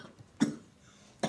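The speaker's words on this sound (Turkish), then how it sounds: "Doktor ne dedi öksürüğüne?" Two short, harsh coughs from a smoker, spaced about a second apart and close up, with near silence between them.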